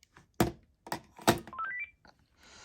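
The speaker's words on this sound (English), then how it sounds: "I'm going to end this message by placing the handset into the base" A Panasonic KX-PRS120 cordless phone handset is set down into its base, giving a few solid clunks and rattles, followed by a short rising series of electronic beeps and a soft hiss.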